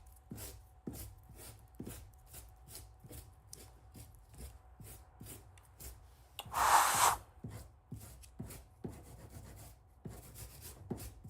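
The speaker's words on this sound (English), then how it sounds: "so I'm going to grab my rasp." A rasp shapes a sculpted piece for a Ghostbusters proton pack build in steady, evenly spaced rubbing strokes at close range, broken by one louder harsh scrape midway.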